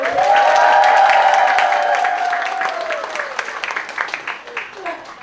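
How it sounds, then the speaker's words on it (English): An audience at a pre-conference education workshop claps loudly and steadily, with a cheer or call carrying over the start, then the applause thins into scattered claps while a voice begins speaking. "Big applause for Ibn Khaldun."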